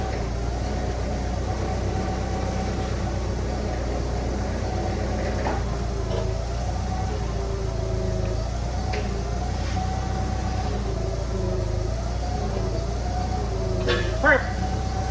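A forklift engine runs steadily throughout, a low continuous idle-like drone with a faint wavering tone, while people talk nearby during farm equipment work.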